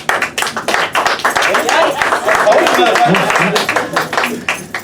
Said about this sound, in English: clap only for the comic you want to win